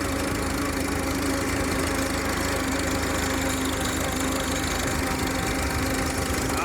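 A 1938 Farmall F-20 tractor engine labouring uphill at half throttle, a loud continuous close knocking drone with steady vibration and no pauses.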